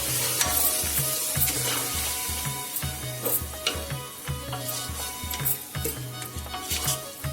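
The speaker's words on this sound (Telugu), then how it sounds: "కొద్దిగా బాగా వేయించుకోవాలి పచ్చివాసన అంతా పోయే వరకు" Green chili, coriander and ginger garlic paste fry in oil over a medium flame for vegetable dum biryani, a steady close sizzle with repeated stirring scrapes running throughout, no voices.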